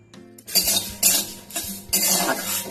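A metal spatula scrapes and clanks against a pan while spices fry for a chicken dish, with loud repeated strokes in bursts of about half a second, close and without talk.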